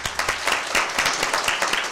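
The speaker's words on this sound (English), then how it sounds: "and a round of applause, please." Audience at a regular board meeting gives a short round of applause, a few people clapping in quick, uneven bursts that sound close and moderately loud.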